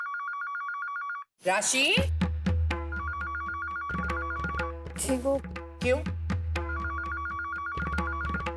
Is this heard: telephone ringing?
yes